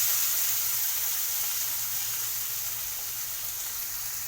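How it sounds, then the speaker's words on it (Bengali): Bitter gourd frying in plenty of oil in a wok gives a steady, even hiss of bubbling oil that holds at one level throughout, with no voices. "এরপর আমি করলাগুলো ভাজার জন্য কড়াইতে বেশ খানিকটা তেল দিয়ে করলাগুলো ছেঁকে নেব।"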